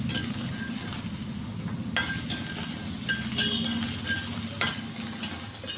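Onions fry in a pan for a tomato pachadi, a steady close sizzle broken by several sharp clinks and scrapes of a spoon against metal; no talking.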